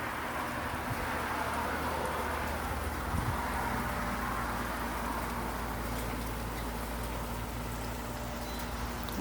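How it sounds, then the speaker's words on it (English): Steady rain falls during a thunderstorm, a dense continuous hiss with a low rumble underneath, unbroken and without talk. "it's finally raining"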